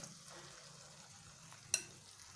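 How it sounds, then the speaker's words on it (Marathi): Soft paneer soaked in yogurt for restaurant-style shahi paneer, stirred into masala: a faint, low sizzle and quiet scraping with one brief utensil clink near the end, no talk. "आता हे सगळे पनीर मी मसाल्यात टाकून घेते"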